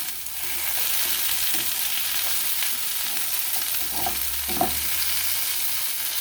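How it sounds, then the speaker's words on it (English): Tomatoes and white onion pieces sizzle steadily in a hot pan while a utensil stirs them, with soft scraping strokes rising now and then over the constant frying hiss, close and fairly loud, no voices. "Now I add the tomatoes and the white portion of the onions."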